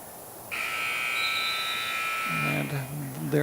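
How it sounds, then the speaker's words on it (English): A period-end buzzer sounds at a wrestling triangular meet: a loud, steady electronic tone lasting about two seconds, followed by a voice talking. "And there goes the buzzer for the end of period 1 with Stewie taking that 10-1 advantage into"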